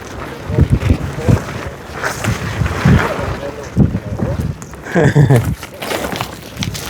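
Wind gusts blow outdoors near water around a boat, roaring and buffeting the microphone in uneven bursts, with people talking over it.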